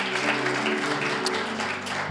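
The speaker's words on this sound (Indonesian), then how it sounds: "Berikan tepuk tangan kita untuk Tuhan kita." A church congregation clapping at a worship service, a steady, moderately loud wash of applause with sustained music tones running underneath.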